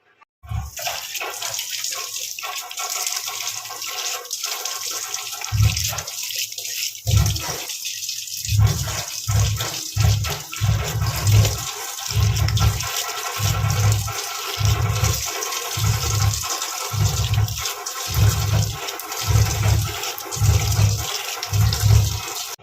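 Water runs steadily from a sink tap during face washing, with a continuous close hiss and repeated rhythmic splashes as hands scoop and splash water.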